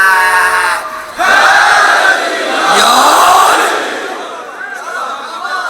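A massed crowd at a Muharram majlis in a Lahore imambargah roars back a slogan in unison, a loud sustained shout that swells, dips briefly, then surges again before fading.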